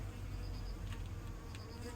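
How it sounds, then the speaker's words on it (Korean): Honeybees buzz near a hive being fed pollen patties, a faint, steady insect drone that stays level and continuous with no talk over it. "요놈이야 갖고 앵앵거리네"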